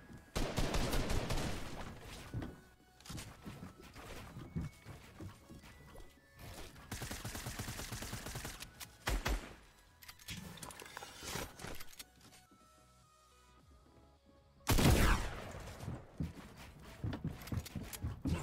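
Bursts of rapid gunfire from an opponent in Fortnite, loud clattering volleys coming in clusters with short gaps and a sharp crash near the end, no talk over it.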